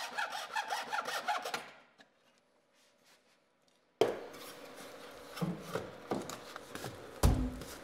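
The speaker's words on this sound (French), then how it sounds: "tu découpes le bois avec une scie à fines dents dans l'espace le plus court" A fine-toothed hand saw cuts through a laminate floor board, giving rough rasping strokes at first, then a short near-silent pause, then further scraping cuts with a sharp knock near the end.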